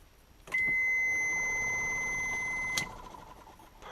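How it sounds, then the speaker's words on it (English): A BMW E36's newly installed push-start ignition gives a single steady electronic beep that starts abruptly and holds for about two seconds before cutting off with a click, ringing clearly over quiet background hum. "Second click, it should beep."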